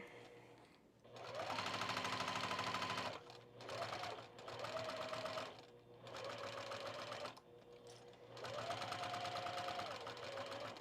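A sewing machine stitches a seam on a High Tide set top, running in several loud bursts separated by short pauses, ending with a brief back stitch.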